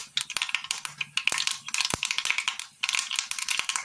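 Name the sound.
mustard seeds spluttering in hot oil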